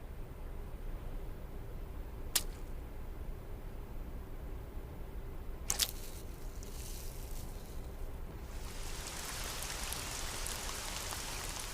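Rain falls as a steady, even hiss for the whole stretch, with a couple of sharp ticks early on and the wash growing brighter and louder near the end.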